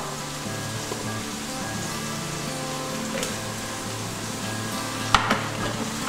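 A spoonful of Maltese tomato paste (kunserva) sizzles in a pot for Maltese pasta and broad bean soup, giving a steady, soft crackle, with a sharp clink of utensil near the end.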